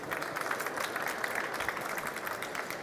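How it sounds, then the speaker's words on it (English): Audience applause after a technical presentation on coating lithium-ion battery materials, a dense and steady round of clapping from a room of people, heard alone for about three seconds. "Here's your applause."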